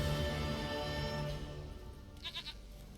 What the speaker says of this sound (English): It's a really well rendered goat.